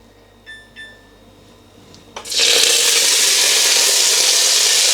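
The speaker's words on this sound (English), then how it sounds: "So just enough to be able to cook the onions." Onions dropped into hot oil in a pan burst into a loud, steady sizzle that holds to the end, after a couple of faint kitchen clinks and beeps.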